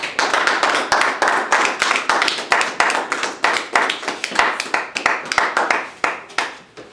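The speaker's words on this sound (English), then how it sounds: "So we give a round of applause for our brother." A live audience claps steadily and close by, with dense, rhythmic hand claps that build and then thin out toward the end, with no speech over them.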